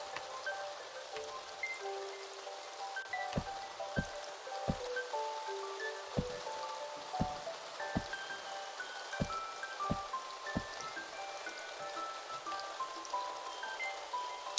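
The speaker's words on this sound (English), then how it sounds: "you just kind of get that like serenity from things like the raindrops" Rain and raindrop ambience in the video game Staxel: a steady soft patter with a string of distinct, evenly spaced drip plinks, quiet and continuous with no voices.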